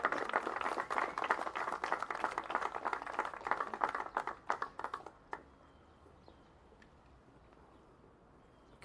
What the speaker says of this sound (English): if you can give Sharice a big round of applause